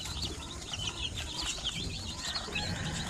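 Newly hatched chicks from an incubator, a dense chorus of high peeping and cheeping over a low background rumble, continuous and fairly close, no talking.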